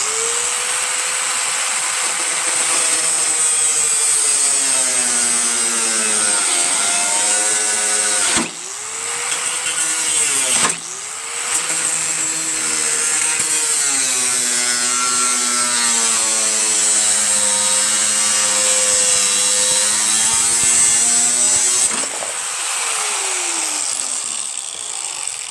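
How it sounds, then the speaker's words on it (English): An angle grinder cuts metal on a Craftsman 420 Trac Plus track-drive snow blower, a loud sustained high whine with wavering pitch as the disc bites and eases, broken by two brief pauses near the middle and a spin-down near the end. "Gonna get my grinder."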